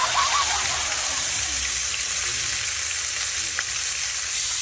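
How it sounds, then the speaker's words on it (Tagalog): Breaded chicken feet deep-frying in a pot of hot oil give a steady, close, loud sizzle and crackle that runs evenly throughout with no talking. "After natin balutan, ay ilagay na natin siya doon sa pinakulo nating mantika."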